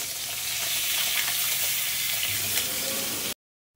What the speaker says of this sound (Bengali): খুব ছিটকাচ্ছে, আমি ছড়ে যাচ্ছি এখন দূরে, এই বাবা কিরকম ফাটছে দেখো